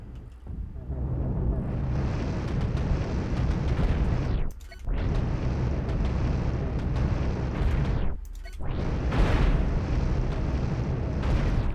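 Cannon fire and explosions in a Cosmoteer space battle, a loud continuous roar of blasts and rumbling that cuts out briefly twice before resuming just as dense.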